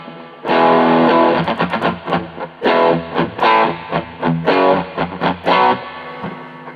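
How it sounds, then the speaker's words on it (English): An electric guitar runs through a LEKATO B-Breaker pedal for a light crunchy overdrive, strummed chords and riffs ringing loud and steady with no voice over them. "It's adding crunch all the way, and it's tasteful."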